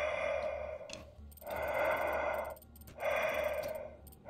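Slow, heavy breaths sound up close in Resident Evil 4 Separate Ways, long sighing exhales rising and falling in a steady cycle with nothing else heard.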